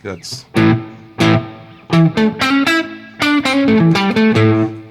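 Short guitar notes and chords ring out in bursts through an onboard plate reverb effect, each followed by a shimmering reverb tail that lingers between phrases.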